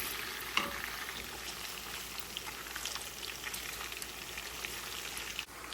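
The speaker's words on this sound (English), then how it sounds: "Bacon's looking really good. Just a little bit more, and it will be fully cooked." Bacon frying in a pan for a keto dinner gives off a continuous, even sizzle and crackle. It is close but moderately quiet, with occasional small pops and no voices.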